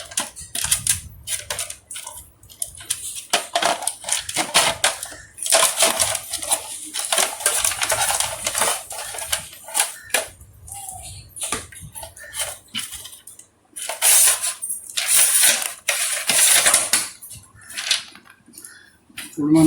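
A mixer grinder's motor is taken apart at home, with repeated metallic clinks, taps and rattles of parts and tools coming in irregular bursts at close range, separated by short quiet gaps.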